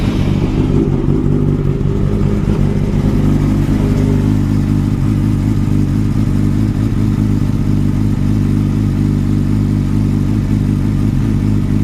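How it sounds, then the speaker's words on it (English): A Yamaha R6 sport bike engine, just after an oil change, runs at a steady, loud idle with a low throbbing hum and a brief rising rev near the start, continuous and alone with no talk. "I'm going to start it. Make sure it's not leaking no oil or nothing."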